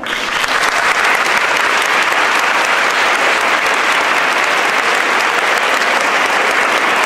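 Loud, dense applause fills a church hall during a first communion ceremony in Montellano, Spain, in 2007, a steady wash of clapping from a large crowd that runs unbroken from start to finish.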